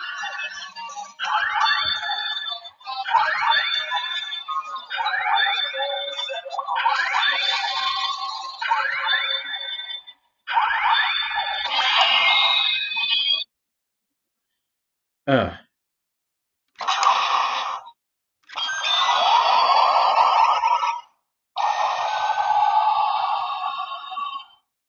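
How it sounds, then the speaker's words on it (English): An Ultraman Trigger DX Circle Arms electronic toy plays a run of bright, chiming, tinny sound effects in several bursts, with a short pause and a quick click partway through. "You get more sound effects from Zed."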